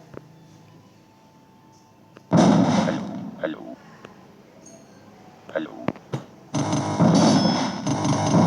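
Two loud booming bomb blasts in the video game Bomber Friends, the second longer and rumbling, with quieter pops and a voice in between.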